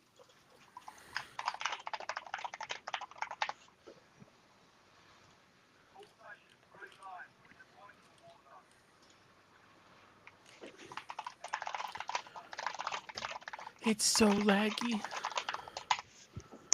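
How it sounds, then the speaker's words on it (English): Fast typing clatters on a computer keyboard in bursts, close and crisp, and a voice talks briefly between the stretches of keystrokes. "Are you typing a novel?"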